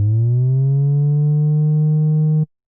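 Deep 808 bass note in a UK drill production, sustained and gliding slightly upward in pitch with portamento before cutting off abruptly after about two and a half seconds, loud and isolated.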